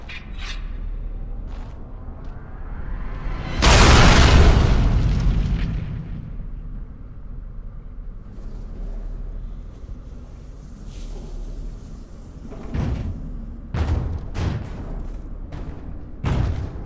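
Anvil being destroyed in Dragon Age Origins: a massive roaring explosion swells and slowly fades, followed by quieter rumbling and a few sharp metallic clanks and knocks near the end.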